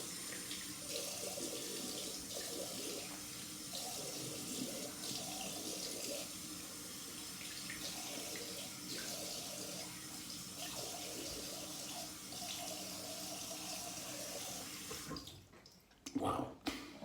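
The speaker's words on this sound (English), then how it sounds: "Let's rinse off and see what it feels like." Tap water runs steadily into a sink for about fifteen seconds as someone rinses off after shaving, ending with a few splashes and handling noises as the flow stops.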